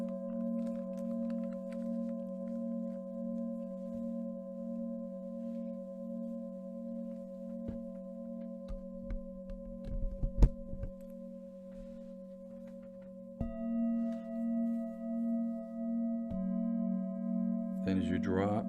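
Steady layered electronic sound therapy tones hum continuously, shifting pitch partway through, with faint soft taps and a brief louder disturbance in the middle.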